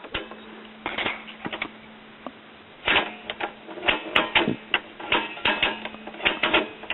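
A General Industries 4-speed phonograph drive mechanism from a Newcomb RT-28B classroom record player, running in gear, gives off clustered mechanical clicks and rattles in irregular bursts over a faint steady hum, close and with no talking.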